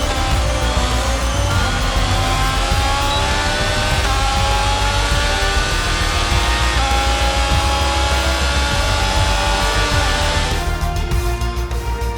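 Haas Formula 1 car in the F1 22 video game at the Austrian Grand Prix sprint, its engine droning steadily at high revs, loud and continuous, with the pitch rising and falling through gear changes.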